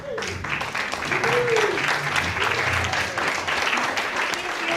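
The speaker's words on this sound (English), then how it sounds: "you deserve a hand of applause" Sustained audience applause for motorcycle road-guard shepherds at a club monthly meeting, a steady wash of many hands clapping that runs the full length at an even level, with some voices mixed in.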